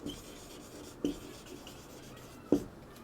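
Chalk or marker writing a word on a classroom board, faint scratchy strokes with two sharper taps, quiet and close, no talking during the strokes.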